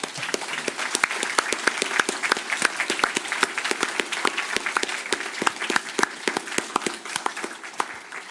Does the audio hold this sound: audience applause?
yes